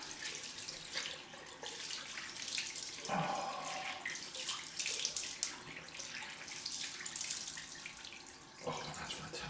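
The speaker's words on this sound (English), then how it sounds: "let's have a cold rinse." Cold water runs from a bathroom tap into a sink for a rinse during a straight-razor shave, a steady soft gush at low level with brief changes as hands move through the stream.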